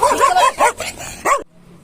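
A village dog barks in a quick run of several loud, close yaps and woofs before stopping abruptly into near silence.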